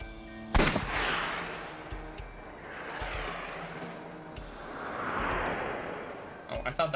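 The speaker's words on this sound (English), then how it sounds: "I'll try shooting it" A single sharp, loud gunshot in AI: The Somnium Files, followed by a long booming decay and swelling ambient rumble, with another burst of hits near the end.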